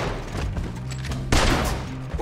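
Gunfire in the video game Red Dead Redemption 2, a loud sustained burst of shots with a sharper crack near the middle, set against steady game background noise and no talk.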